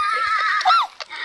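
A horse in a video game whinnies loudly and close, a quavering high neigh that falls away, followed by a couple of short hoof clops.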